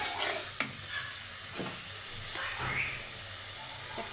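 Blended fried onion paste with salt is stir-fried in a pan, a continuous soft sizzle and hiss broken by spatula scrapes and one sharp tap near the start, no talking.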